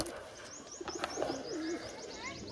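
Pigeons coo softly at a pigeon seller's, several low repeated coos with faint chirps from other birds nearby, against quiet background noise.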